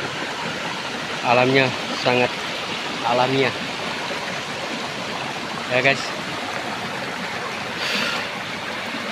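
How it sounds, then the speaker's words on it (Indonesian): A small jungle stream in Papua flows steadily close by, an even rushing babble throughout, with someone speaking briefly over it several times. "Sekarang saya sedikit istirahat di kali kecil ini atau sungai kecil ya."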